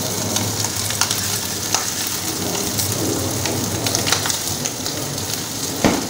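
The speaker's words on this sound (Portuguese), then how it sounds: "vou também dourar aqui um pouquinho, ó, esse arroz junto com a linguiça." Rice browns in a hot pan alongside fried sausage, giving a steady, loud sizzle with occasional stirring scrapes and crackles throughout, close up and without voices.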